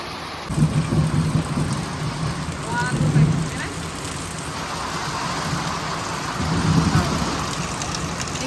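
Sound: heavy rain pouring down

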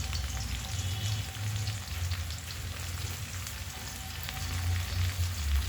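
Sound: onion, garlic and green chili frying in a pan

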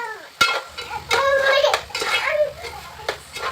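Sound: stirring and mixing cabbage curry in a pan

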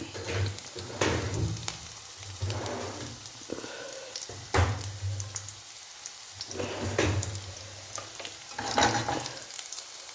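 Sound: cumin, ginger and garlic frying for radish thoran

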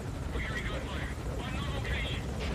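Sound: helicopter in the sky in the video game Metal Gear Solid V

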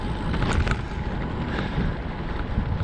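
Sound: wind while cycling

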